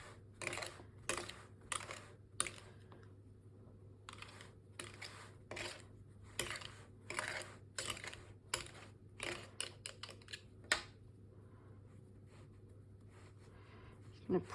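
Pastry edges of a caramel ginger tart being trimmed, a series of sharp close scraping cuts in uneven bursts over a low steady hum, quiet and without talk.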